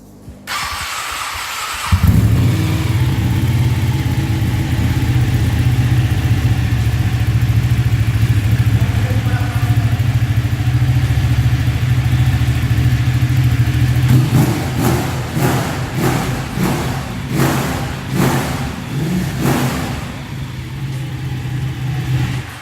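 A 2013 Ducati Panigale 1199 S with a Termignoni exhaust cranks and fires up, settling into a loud, deep, lumpy idle close by, then revved in several sharp blips toward the end.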